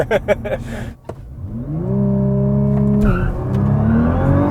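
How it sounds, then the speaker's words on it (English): Nissan GT-R 50th Anniversary Edition accelerating hard from a launch, engine note climbing sharply through the gears with a shift and tire noise, loud and close, with brief voices early on. "When this thing hooks up, it hooks up. Feels like a remote control car taking off so fast."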